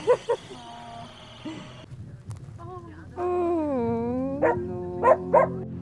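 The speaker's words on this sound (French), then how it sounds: "De nombreux chiens errants habitent la zone" Stray dogs in a town area yip, whimper and bark in short bursts, with a drawn-out whining howl in the middle, fairly close and moderately loud with faint background noise.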